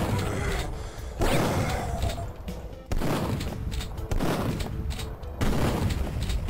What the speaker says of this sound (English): How many times do you have to shoot a thing before it decides it's done living?